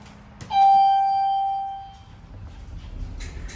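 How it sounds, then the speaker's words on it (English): A single clear bell-like chime from a Westinghouse hydraulic elevator at a San Ramon, California courtyard center, ringing close and loud with a sustained tone that slowly fades over about a second and a half. "Just tell by the chime on this thing."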